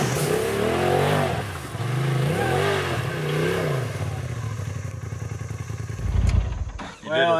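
SuperATV off-road vehicle climbing over a rock on a trail: the engine revs up and down in repeated surges, loud and close, then a sharp clattering blast near the end.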